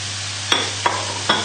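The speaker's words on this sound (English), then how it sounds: "So the key is just keep everything moving in the pan, because that way nothing will stick on the bottom and burn." Smoked bacon and mushrooms frying in a pan while being kept moving, with a steady sizzle and three distinct scraping stirs against the pan, no talking.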